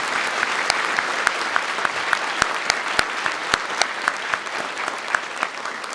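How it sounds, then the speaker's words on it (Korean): A church congregation at a New Year service applauds steadily, a dense wash of many hands clapping with a few sharp, louder claps popping out, no talking over it. "우리 박수로 서로 축복하도록 합니다"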